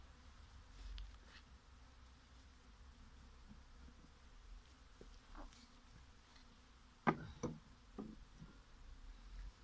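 Faint buzzing of honeybees around hive frames during a colony merge, a low steady hum with a few brief knocks and taps near the end, quiet and distant.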